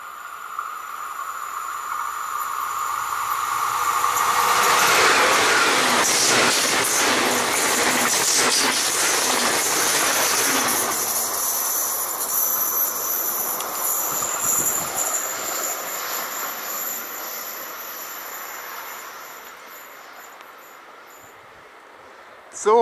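An ICE high-speed train passes on the line near Wörnitzstein, a loud broadband rush of wheels and rail that swells over several seconds, with wheel squeal and clatter, then fades as it moves away.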